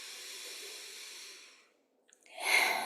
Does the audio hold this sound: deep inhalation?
yes